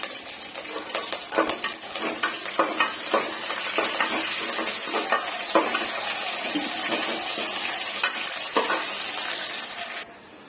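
Curry leaves sizzle in hot oil for a Nellore fish curry. A constant bright hiss runs through it, broken by scattered sharp crackles and pops, steady and close, with no speech.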